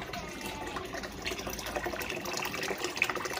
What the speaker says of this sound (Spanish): Acá estoy llenando el tambo.